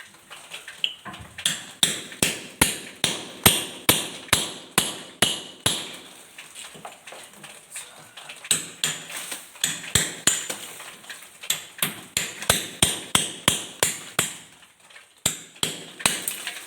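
A nail is hammered into wall tile before drilling during a kitchen chimney installation. Sharp metallic taps come in quick, irregular bursts over roughly fifteen seconds, close and fairly loud, with brief pauses between runs.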